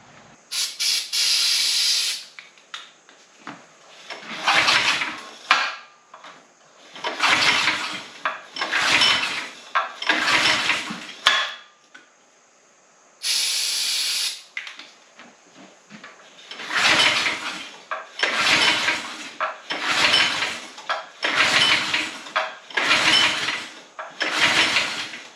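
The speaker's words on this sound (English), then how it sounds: "see if we can get it to fire with some flammable brake clean" Manco Intruder II go-kart engine doused with flammable brake cleaner, cranked repeatedly in loud rhythmic pulls with hissing bursts between them, none catching into a steady run.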